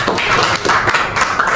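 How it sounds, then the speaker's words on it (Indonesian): A studio audience at a political talk show gives a round of applause, a brisk, close burst of clapping hands with sharp, uneven claps throughout. "Oke, dan tepuk tangan dulu."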